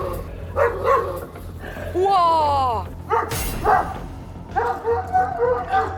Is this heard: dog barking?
yes